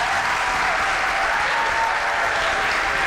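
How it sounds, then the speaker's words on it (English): Studio audience applause on a talk show, loud, even and continuous clapping that fills the whole moment with no pauses. "Yes, please, a round of applause."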